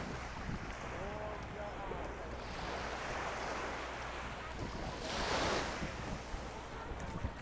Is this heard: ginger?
no